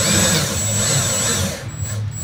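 Cheap Harbor Freight power drill whirring steadily while boring into a brand new fuel tank, a continuous close mechanical drone that dips briefly near the end.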